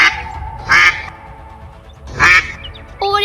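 A cartoon mother duck quacking: two loud, nasal bursts of quacks a second or so apart, with a short third call starting at the end, over a quiet background.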